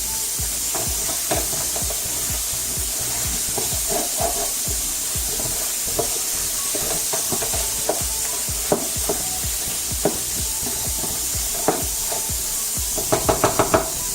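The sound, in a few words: Haitian beef stew bouillon simmering in a pot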